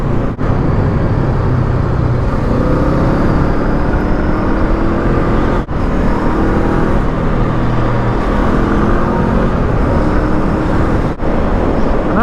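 A Honda CL500 Scrambler with a 6-speed gearbox is ridden, its engine droning loud and steady under wind rush, with a few brief dips in the sound as it shifts gears.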